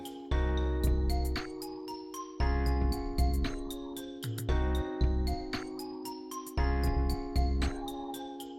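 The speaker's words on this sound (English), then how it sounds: "That's the sound of Locrian." A looping keyboard progression in C Locrian repeats four times, bright sustained chords with tinkling high melody notes over the top, moderately quiet and steady.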